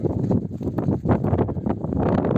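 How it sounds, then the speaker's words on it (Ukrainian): Strong wind buffeting the microphone in an open field, a loud continuous low rumble with gusty swells and no voices. "таким вітром не хочеться знімати"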